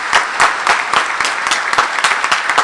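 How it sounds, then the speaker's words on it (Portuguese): Loud, close rhythmic clapping from a church congregation during a Portuguese-language sermon on prayer, a brisk regular beat of claps lasting a few seconds. "Pode aplaudir, pode aplaudir, pode aplaudir."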